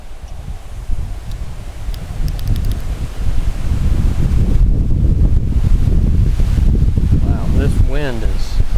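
Strong gusts buffet an outdoor portable radio operating spot in a park, roaring and rumbling against the microphone, swelling louder partway through, with a voice speaking faintly under the blustering wind.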